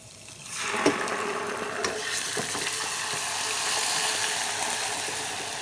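Tomato paste hits a hot frying pan and bursts into sizzling that settles into a steady crackle, with a few light clinks of a spoon or stirring, and no voices.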